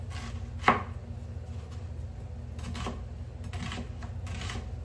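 A knife chops Tropea onions from Calabria into coarse pieces on a board, with one sharp chop standing out near the start and softer cuts following over a steady low background hum.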